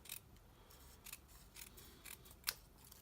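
Scissors cut paper down to size for a card-making project, producing a few quiet, close snips spaced irregularly over a near-silent background, one sharper cut standing out.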